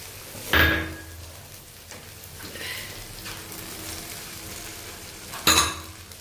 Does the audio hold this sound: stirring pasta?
yes